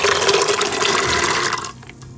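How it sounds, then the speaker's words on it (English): Water is poured into a pressure cooker holding overnight-soaked peas, a loud, steady rushing splash that stops abruptly near the end, leaving a quieter trickle. "I'm gonna top it up with some more water so that it can pressure good, right?"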